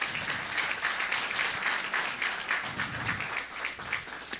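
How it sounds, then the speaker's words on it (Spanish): A church congregation at a Sunday service applauds steadily, a dense wash of clapping that holds for several seconds at moderate loudness before easing slightly near the end. "Una vez más vamos a dar por favor fuertes aplausos"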